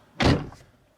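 The car door of a BMW 730d without soft-close swings shut in a single solid thunk, close and fairly loud, quickly decaying into quiet.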